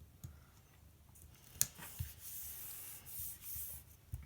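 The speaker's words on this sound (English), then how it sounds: "Just trim off the edges with my titanium Westcott scissors." Titanium Westcott scissors trimming the edges of planner paper, giving soft scraping snips and rubbing strokes at close range, with a few sharper clicks scattered through a quiet room and no talking.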